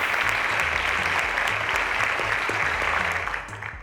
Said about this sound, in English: Ladies and gentlemen, a round of applause to Esther and Gift.